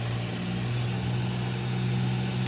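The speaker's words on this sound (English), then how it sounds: "So I'm just gonna just let y'all hear the car, the wash itself." An automatic car wash runs over a car with a steady, loud mechanical drone and hum, continuous throughout with no talking.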